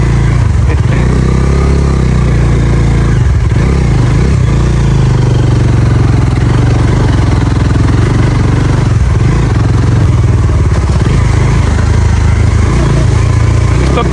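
A motorcycle engine drones loud and close with a steady low rumble while the bike is ridden on a slippery, muddy red-soil off-road village track in the rain. Faint voices may sit under it.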